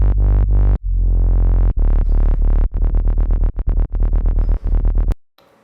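A Serum 2 synth bass patch built on a saw wave with an LFO-modulated filter, plus EQ, plays a long sustained swell followed by increasingly rapid rhythmic stabs. It is loud and dense, cutting off abruptly near the end.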